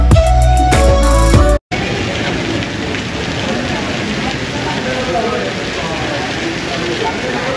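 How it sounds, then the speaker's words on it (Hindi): Heavy rain pours down in Goa near Palolem beach, a loud, steady broadband roar that takes over abruptly after a brief burst of other sound and continues without letup. "बहुत ज़्यादा ज़ोरों से बारिश शुरू हो रही"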